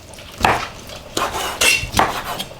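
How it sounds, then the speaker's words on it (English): Knife cutting cooked beef drop flank into bite-sized pieces on a board, three or four distinct chopping knocks with short scraping between them, close and fairly loud, no talking. "I'm just gonna cut this to bite-sized pieces."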